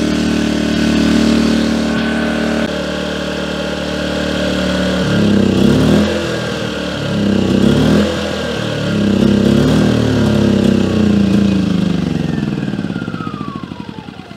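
A Firman W01682 2000/1600 watt inverter portable generator runs loud and steady up close, its engine note rising and settling through cycles of load, then fading and winding down toward the end as it shuts off.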